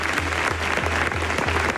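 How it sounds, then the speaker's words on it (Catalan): Steady, dense applause from a crowd gathered at a memorial in El Prat de Llobregat, continuous rhythmic clapping with no voices over it. "Aquests eren els aplaudiments"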